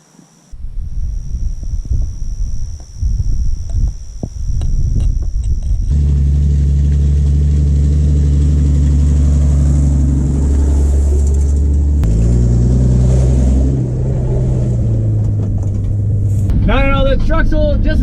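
An old Ford F350 truck engine drives along with a loud, steady low rumble and humming drone, shifting in pitch as it runs, with people talking over it.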